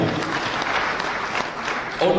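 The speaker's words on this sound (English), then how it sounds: "Let's give her a clap." A crowd at a political gathering in Mt Kenya claps steadily in dense, even applause, loud and close, filling the whole moment with no pauses.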